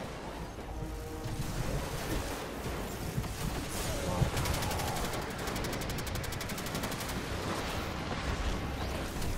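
Gunfire in a video game, with a sniper shot among steady rattling bursts that carry through a dense, noisy mix for most of the stretch, with a loud crack near the middle.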